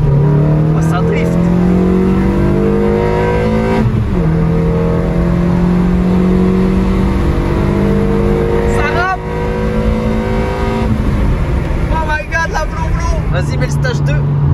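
A Dacia Duster revving hard and racing nearby, its engine rising and falling in long sustained sweeps with shifting pitch, loud throughout, with voices talking over it.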